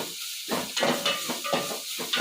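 Ingredients sizzle and hiss in a hot pan, bursts of frying noise rising and falling in quick irregular pulses, close up, with no one speaking.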